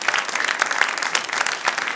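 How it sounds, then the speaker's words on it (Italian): An audience at a televised Sardinian evening show claps steadily, dense and fairly loud, with no voices over it. "Un applauso per Luca Tilocca."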